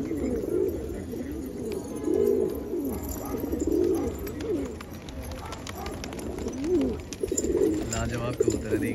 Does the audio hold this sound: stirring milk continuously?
no